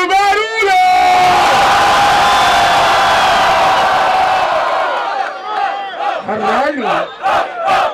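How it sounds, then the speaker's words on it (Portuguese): Crowd at a rap battle final in Cabo Frio, Brazil, cheering and shouting loudly for several seconds after the host calls for noise, then fading into scattered whoops and yells near the end. "Quem gostou da rima do Samuel, faz muito barulho!"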